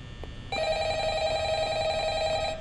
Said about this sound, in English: This must be the phone that Lilith was talking about.